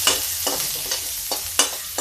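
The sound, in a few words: onion frying for dhaba-style mixed dal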